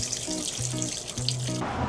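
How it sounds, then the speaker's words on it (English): Water gushes from an opened fire sprinkler pipe after a clogged sprinkler head was cleared, a loud steady rush of flowing water up close, with a low repeating hum beneath it. "Water's pouring out."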